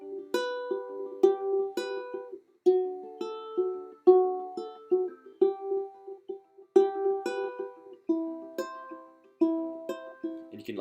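Ukulele strumming in a steady counted pattern, bright plucked chords ringing clearly in a rhythmic sequence with no talking over it.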